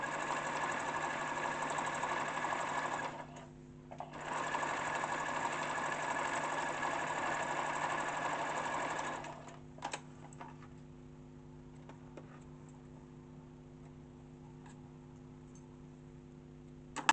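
A sewing machine top-stitches a pocket on an African print kaftan, running in a steady even whir, pausing briefly, running again, then stopping to near quiet with a few faint clicks.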